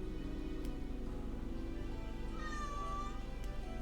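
A cat meows once in Old School RuneScape, a rising-and-falling wail over a steady low hum, fairly faint and alone without speech.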